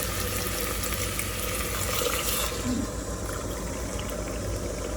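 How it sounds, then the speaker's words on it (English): Hot water pours steadily into a pot of rice and dal for several seconds, a continuous close splashing rush that shifts slightly in tone partway through. "For that, I'm adding 4 cups of hot water."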